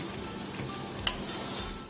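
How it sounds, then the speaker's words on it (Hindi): Steady, soft sizzling of boiled black chickpeas frying in a pan, with a faint scrape or stir near the middle; no voices. "तो चने भी थोड़े से हमने भून लिए हैं, फ्राई कर लिए हैं।"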